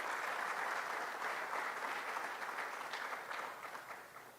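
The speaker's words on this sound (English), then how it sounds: "Give them a round of applause." An indoor audience at a Nation of Islam Albinism Awareness Day event claps in sustained applause that gradually fades toward the end.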